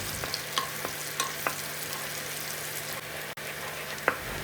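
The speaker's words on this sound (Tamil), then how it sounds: "அதை போட்டுட்டு எல்லாத்தையும் நல்லா வதக்கி விட்டுக்கோங்க." Onion, fennel and curry leaves sautéing in oil for a spicy cauliflower fry, a steady soft sizzle with a few light clicks of a spoon stirring the pan, close and alone with no talk.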